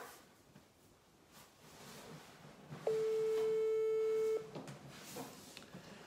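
A steady electronic telephone line tone signals an incoming caller on a French-language call-in radio show, sounding once for about a second and a half as a loud, flat beep over faint background room noise.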